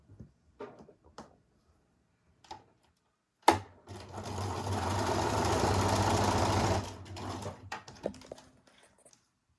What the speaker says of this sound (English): I'll just run it right under my machine.